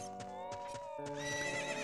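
In the video game Ocarina of Time, a horse neighs loudly with a long whinny while hooves clip-clop beneath it, all close and brief.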